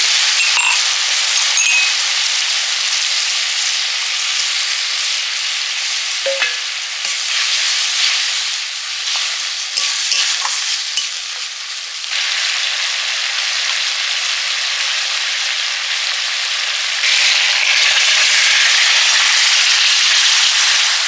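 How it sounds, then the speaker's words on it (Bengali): Spice paste sizzles loudly and continuously as it fries in a pan, a dense crackling hiss rising and falling slightly with the stirring, close up and with no talking. "ভেজে মশলাটা কষে নিচ্ছি"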